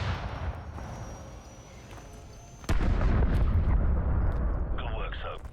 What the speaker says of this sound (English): grab another Stinger and fire again